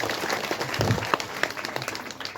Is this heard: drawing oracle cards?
no